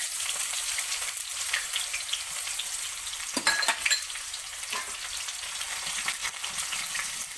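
Chopped onion frying in a hot tempering for masala khichdi, giving a steady, loud, close sizzle throughout with a few brief stirring scrapes near the middle.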